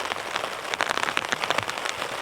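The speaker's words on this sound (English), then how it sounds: "The rain's starting to come in." Heavy rain drums steadily on a tent and tarp at a wild campsite, a dense, close, continuous patter of many drops with no voices.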